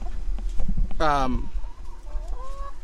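Hens in a backyard hoop coop cluck nearby, with one loud rising squawk standing out over the steady low farmyard murmur, as hens do around laying an egg.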